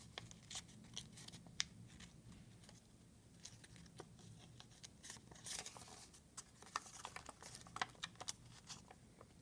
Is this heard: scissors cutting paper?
yes